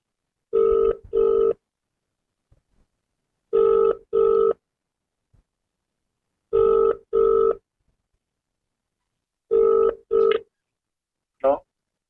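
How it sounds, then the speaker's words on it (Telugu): Ringback tone on a phone call placed to a local assistant engineer: four paired double beeps separated by silent gaps, clear and electronic, followed by a short final chirp. "దీనిపైన ఇప్పుడు మనము మద్దూరు ఏఈ గారికి కాల్ చేస్తున్నాం."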